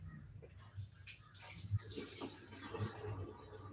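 Water runs steadily as a container is filled with about a gallon, a soft, continuous pouring wash at close range, fairly quiet, with a few faint knocks and handling noises but no talking.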